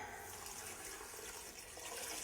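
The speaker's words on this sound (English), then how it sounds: "you want to cover it with 8 cups of water" Water is poured over cut citrus in a pot while making orange marmalade, a soft, steady, even rush of liquid that stays faint and continuous throughout.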